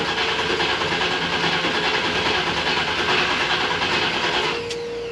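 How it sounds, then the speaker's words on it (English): A big white bus engine being cranked without catching, a loud steady whirring, grinding drone that runs continuously and then drops off near the end, with no talk over it. "Crank it. Ignition. Contact."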